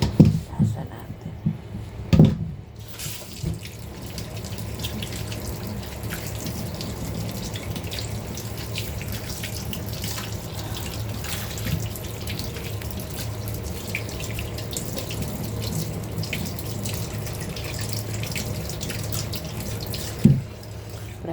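Cold water runs steadily from a tap into a sink in a home kitchen, a continuous close wash lasting about twenty seconds with a few clunks near the start, under background talk.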